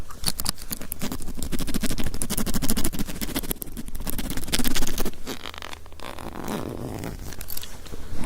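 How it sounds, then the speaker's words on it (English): A jammed zipper on a pencil case is tugged and worked open, giving a loud close run of rapid ratcheting zips and scratchy scrapes that stutter along for several seconds, with no voice over it. "My zipper is jammed."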